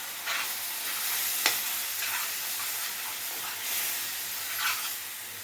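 Kummayam sweet being stirred in a pan as jaggery syrup is poured in little by little, giving a steady hissing, sizzling texture with soft recurring scrapes and one brief knock, no voices.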